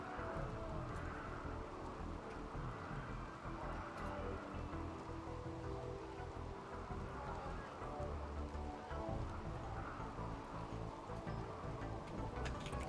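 Steady rain falling in RimWorld, a dense, even hiss of drops holding at a constant level from start to finish, with nothing rising above it.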